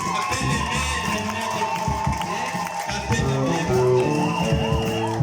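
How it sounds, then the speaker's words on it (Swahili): A church congregation in Goma, at Rhema Mission Church, bursts into loud, sustained applause and cheering, with high wavering vocal cries rising over the dense crowd noise for about five seconds. "Kwa hiyo kanisa lote et maintenant toute l'église wachapie makofi mazuri."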